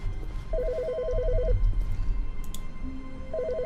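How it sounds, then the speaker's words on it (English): An old-style telephone trilling in the video game The Stanley Parable, two bursts of rapid warbling rings separated by a pause, loud and close over a low room hum. "Oh, there's a phone."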